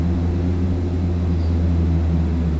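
Steady, loud drone of aircraft engines in the Prepar3D v4 flight simulator game, a continuous low propeller-like hum that holds at an even level throughout, with no talking.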